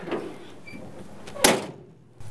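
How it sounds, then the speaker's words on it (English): A single sharp thunk of a 1970 GMC Fleetside pickup truck door shutting, preceded by quieter rustling and handling noises, with no talking. "The doors open and close really good."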